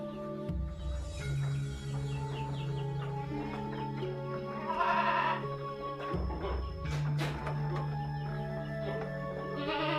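Goats on a goat farm bleat loudly and close by, two long wavering calls separated by a short gap, with fainter animal and bird sounds behind.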